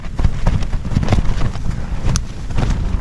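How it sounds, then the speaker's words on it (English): Strong gusty wind at a mountain campsite buffets the microphone in a steady loud roar, close and rough, with no talking. "Wind's really getting up."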